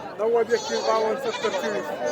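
A goat bleats in short, wavering cries close by at a goat and sheep market in Kashti, mixed with people talking nearby.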